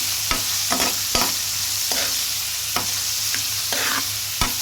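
Onions frying with salt, cumin and garlic, stirred with a utensil: a loud continuous sizzle close by, punctuated by about eight sharp scrapes and knocks against the pan, no voices.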